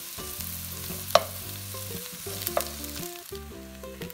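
Garlic and chili flakes brown over medium heat in a pan, a quiet, continuous sizzle beneath a steady tonal background, punctuated by two sharp clicks of a utensil against the pan.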